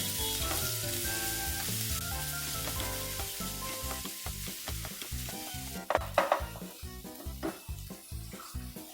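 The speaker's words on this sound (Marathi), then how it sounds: "हिरवी मिरची, कोथिंबीर, आलं, लसूण, याची पेस्ट परतवायची आहे।" Green chili, coriander, ginger and garlic paste sautéing in a pan for samosa filling, a steady close sizzle with repeated scraping stirs that grow sharper and more percussive toward the end.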